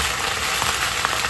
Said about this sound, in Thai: ผัดให้ผักยุบเลยนะคะ